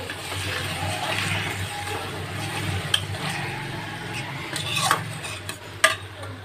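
Vegetables are stirred and sautéed with salt and turmeric in a pan, giving steady scraping and stirring with light clinks of the utensil against the pan. A few sharper knocks come toward the end, and a low hum runs underneath throughout.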